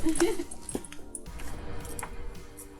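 A dog whimpering and giving a short yip at an outdoor cooking spot, brief whines near the start with a voice speaking over and between them.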